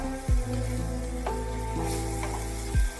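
Minced chicken frying in a pan over a medium gas flame, steady close sizzle with a couple of brief stirring scrapes, no talk.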